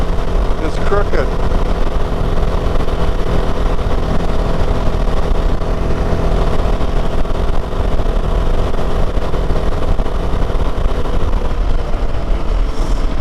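A Royal Enfield Himalayan 450 single-cylinder motorcycle riding at speed gives a loud, unbroken engine drone buried in heavy wind rush, steady from start to finish.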